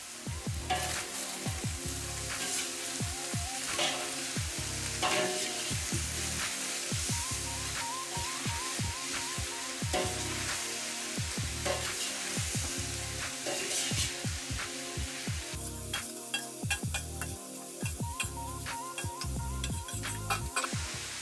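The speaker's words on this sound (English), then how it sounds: "Meats and onions are added after the oil is heated. Five minutes to roast." Lamb meat and onions fry in heated oil in a pot for a potato kebab dish, a continuous close sizzle broken by frequent scraping and clattering stirs throughout.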